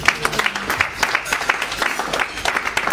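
A church congregation applauding during a ministers' consecration service, steady rhythmic clapping from many hands filling the room, close and lively throughout.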